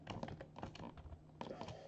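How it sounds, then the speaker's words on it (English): Quick bursts of keystrokes on a computer keyboard, irregular clusters of close clicks with a brief pause midway and no speech over them. "Let's just type it out here,"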